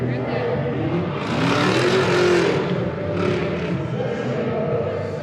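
A car accelerates hard and roars away nearby at a custom car show, engine noise swelling then fading, with voices chattering in the background.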